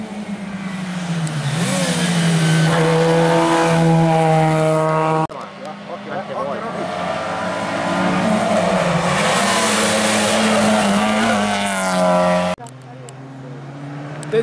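A historic rally car races along a special stage of the Rally della Lana Storico, its engine revving hard and loud in rising and falling sweeps through gear changes, with brief cuts between passes.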